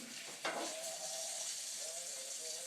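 Bacon sizzling in a pan: a steady, fairly quiet crackling hiss with a brief louder spatter near the start and faint clinks of the pan beneath.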